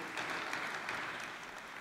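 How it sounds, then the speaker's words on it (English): An audience at a finance department celebration applauds with a steady, soft wash of many hands clapping, heard from a distance and without voices. "A thunderous applause to start with them."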